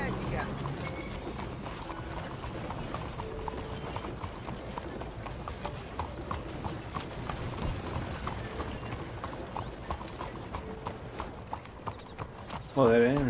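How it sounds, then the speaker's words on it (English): Horse hooves clip-clop steadily through the city streets of Saint Denis in Red Dead Redemption 2, an even run of close hoofbeats mixed with faint mechanical clatter and low background sound. "En San Denis hay que tener cuidado por donde uno va con el caballo."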